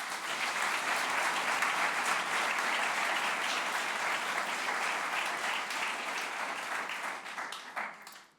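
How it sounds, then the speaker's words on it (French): Sustained audience applause at a communication school graduation ceremony, a dense wash of clapping from a large crowd holding steady for about eight seconds before tapering off. "je propose qu'on applaudisse déjà votre participation à l'école de communication"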